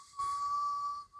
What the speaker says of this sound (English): that whistle was about as bullish as it can be, Sneaky Pete.